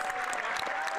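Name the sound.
Canadian Parliament members cheering and applauding on the Liberal side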